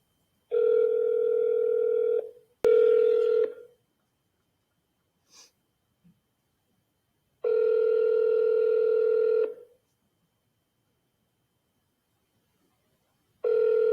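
Telephone ringback tone on an outgoing call: steady buzzing tone bursts of about two seconds separated by long silences, clear and close, with a few faint clicks between them.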